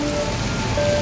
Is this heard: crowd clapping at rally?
no